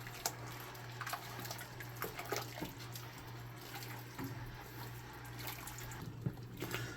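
Pineapple jam bubbles at a full rolling boil in a pot, a continuous wet churning and popping texture under a steady low hum, fairly quiet and close.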